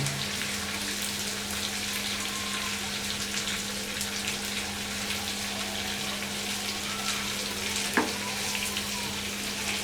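Peri peri chicken pieces frying in a pan, a steady close sizzle running throughout with a constant low hum beneath and one brief sharp tap near the end.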